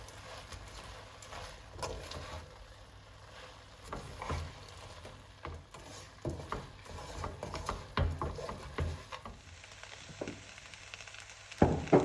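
Fried eggplant being mixed together with the other moju ingredients, giving irregular soft scrapes, clicks and wet knocks that grow busier and louder toward the end, with no talk.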